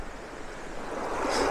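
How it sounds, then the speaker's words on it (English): A woodland stream running strong in autumn gives a broad, steady rush of water that swells slightly louder toward the end, close and continuous with no voices. "I'd say this water flow is quite strong, as you can see, compared to what it usually is up here"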